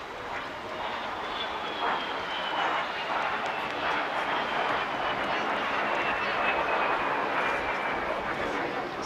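De Havilland Vampire jet flying past along a seafront toward a pier at an airshow, its engine a sustained whistling roar with a slowly falling high tone, steady and moderately loud.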